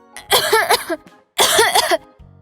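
Two loud, harsh coughing bursts close by from an older woman standing at a doorway, each a rough rattling fit, separated by a short pause, with a low hum continuing after.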